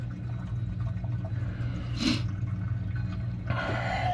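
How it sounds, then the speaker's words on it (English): Water from the dump valve of an Atosa ice maker gravity-draining into a clogged drain line, a steady low rushing with a brief gurgling surge midway and another splash near the end. "on these Atosa ice makers, the dump valve goes into this. It's supposed to gravity feed right here."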